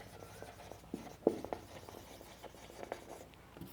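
Pen writing on paper during a class 10 trigonometry lesson, soft scratchy strokes in short irregular bursts, close and quiet, with no talking.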